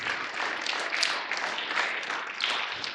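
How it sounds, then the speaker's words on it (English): A school audience gives a round of applause at a motivational talk, a dense, even wash of many clapping hands sustained for about three seconds with no voice over it. "A big round of applause to that boy, my dear friends."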